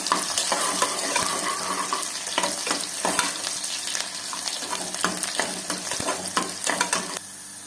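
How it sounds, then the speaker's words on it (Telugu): Onions fry in a pan for chicken curry, sizzling steadily with frequent scraping and stirring clatter against the pan, then the sizzle quietens near the end; no voices. "ఒకటి ఉల్లిపాయ గడ్డ, బాగా ఎర్రగా వచ్చేంత వరకు వేసుకున్నాము."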